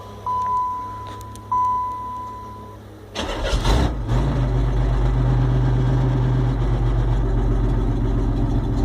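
A racecar with a toggle switch and push-button start: a few electronic beeps, then the starter cranks briefly and the engine catches into a loud, steady rumbling idle close by.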